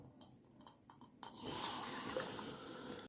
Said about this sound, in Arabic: خلاص كده دلوقتي بقى انا هحط الميه